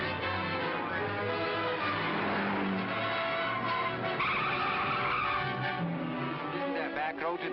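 A car from the 1940s speeds along with tires skidding and squealing, engine roaring loudly and continuously throughout, with voices talking over the driving noise.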